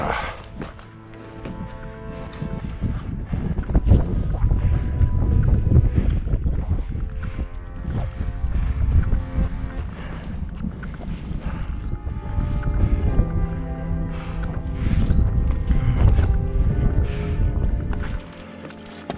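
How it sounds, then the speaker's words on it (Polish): Wind gusts through a gap in a rocky ridge on Gerlach, climbed solo by the Martin route. It buffets the microphone in uneven rushes, with faint scrapes and steps underneath. "Przez tą tutaj szparę w grani fajnie wieje wiaterek"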